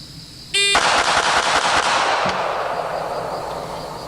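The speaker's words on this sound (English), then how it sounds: "let's see what I can do on this target in rapid fire, and let's see what our group looks like out of this tiny handgun" Six rapid shots from a tiny handgun fired at a target, sharp loud cracks packed into about a second and a half, each ringing out close before the reverberation fades.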